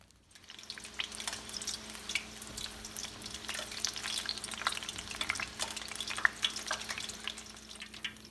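Rolls frying in oil in a pan, a steady soft crackle and sizzle with scattered pops and a low hum underneath, moderately close and continuous throughout.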